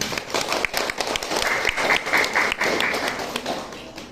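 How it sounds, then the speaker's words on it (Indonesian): A training-event audience claps together in dense, steady applause that holds for a few seconds before easing slightly. "Kita tolong tepuk tangan dong buat dia"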